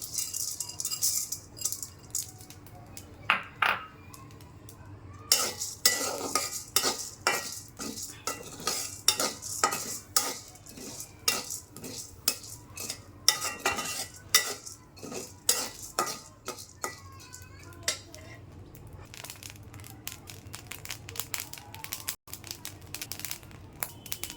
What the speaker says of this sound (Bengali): এই দেখুন আমার চাল ভাজা কি সুন্দর ফুটতেছে